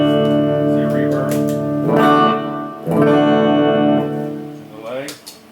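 An electric guitar played through a reverb effect on a homemade budget pedal board, sustained ringing chords swelling and trailing off in a washy tail, with several strums across the passage.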